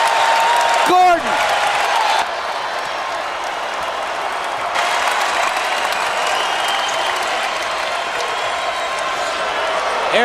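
Crowd in a college basketball arena applauding and cheering during an Arizona Wildcats versus Arizona State game, a broad steady wash of clapping and voices that swells briefly near the start, then holds on at a lower, even level.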